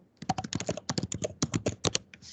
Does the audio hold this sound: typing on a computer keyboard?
yes